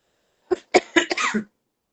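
A short burst of coughing, three or four quick harsh coughs close up, then silence.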